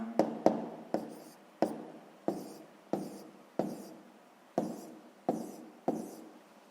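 Numbers written by hand on paper for a sixth-grade maths exercise, a series of about a dozen sharp taps and short scratchy strokes in an uneven rhythm, close and fairly quiet, with no talk.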